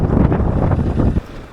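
Heavy wind roars and buffets the microphone on a Unicorn 160 motorcycle ride along a highway, a loud continuous rushing blast that drops away abruptly near the end.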